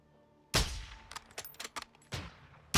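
Gunfire in Call of Duty: Modern Warfare 2, a few sharp, loud shots with decaying tails, separated by a quick burst of smaller cracks, with no talking over them.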